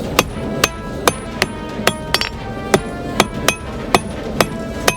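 Blacksmith hammering metal to a point in freezing weather, a steady series of sharp ringing strikes, close and loud, about two to three per second.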